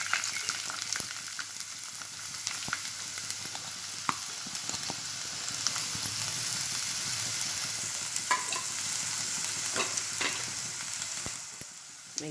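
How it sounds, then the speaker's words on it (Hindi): Chopped onions fry in sweet oil in a hot pan, a steady broadband sizzle running throughout with scattered crackles and occasional stirring scrapes, fading slightly near the end. "इसमें मैं कटी हुई प्याज डालूँगी।"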